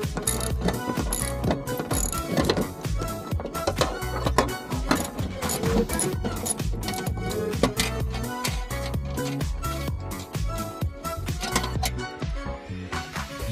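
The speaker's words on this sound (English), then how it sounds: "Remove the middle screw or bolt at the back of the metal plate cover using a 13mm socket wrench." A 13mm socket wrench ratchets bolts off a metal plate cover on a BYD Dolphin car, rapid metallic clicking in a continuous busy stream, close and steady throughout with no voices.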